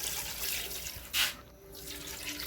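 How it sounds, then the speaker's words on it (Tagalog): Water runs from a tap into a cooking pot of native chicken kaldereta in a steady stream with a brief louder splash partway through, then a quieter flow resumes. "Lagyan ulit ng tubig"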